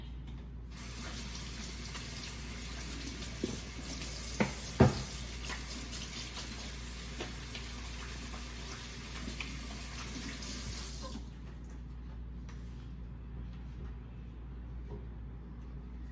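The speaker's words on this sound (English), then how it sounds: "Now I'm just gonna go over here, rinse my hands off again." Tap water runs steadily into a sink as hands are rinsed during fish preparation, a close, even hiss with a few small splashes before the flow stops near the end.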